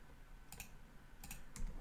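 Keyboard keys are pressed while working in Blender 3.6, with a few quiet, close clicks in quick succession, two near the middle and one more near the end, over a soft room hiss.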